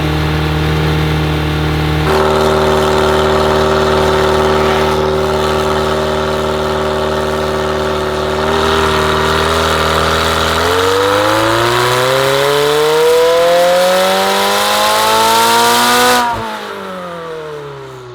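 A rebuilt McLaren engine runs on a dyno. It holds a steady, droning rev, then climbs in a long, rising wail to a loud peak. It cuts off sharply, leaving a fading idle. No one speaks.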